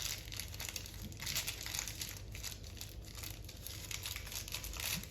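Chocolate pressed from a hand-held paper piping cone, giving a steady soft crinkling and rustling of the paper that runs for several seconds, close and fairly quiet.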